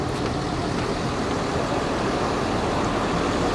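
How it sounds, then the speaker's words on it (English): A Universal Studios tour bus engine rumbles in a steady, close, unbroken drone with no talking. "My tour bus for today."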